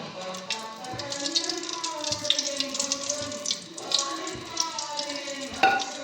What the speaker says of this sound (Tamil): நாங்கள் கடலெண்ணெய் தான் யூஸ் பண்ணுவோம் எண்ணெய் ஊற்றிக்கலாம்